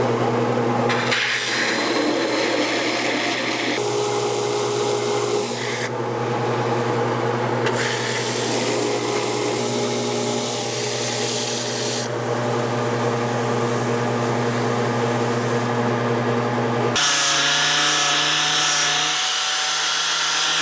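A sander built for engine heads runs steadily in a machine shop, sanding parts with a continuous loud hum and grinding rasp that shifts in pitch and load as the work changes, with no talk over it.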